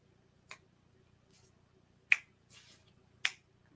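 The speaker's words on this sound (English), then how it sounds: "Snapping my fingers." Three crisp finger snaps ring out close and alone in a quiet room, spaced unevenly, with a soft rustle between them.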